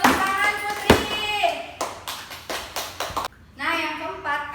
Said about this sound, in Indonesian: Tepuk tangan Putri.